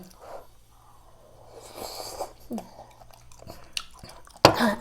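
Someone chews raw frog meat, a frog shabu meal, with soft wet mouth sounds up close and a sharp crunchy bite near the end.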